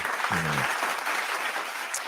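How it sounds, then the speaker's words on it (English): A burst of crowd applause, dense clapping that holds steady for a couple of seconds, with a brief low tone near the start. "Big applause for you"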